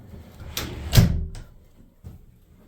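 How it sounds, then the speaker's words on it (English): A wooden door on a double box hunting blind swings shut with a loud thump, after a lighter knock, followed by a faint second bump, all close by with no talking. "Close the door."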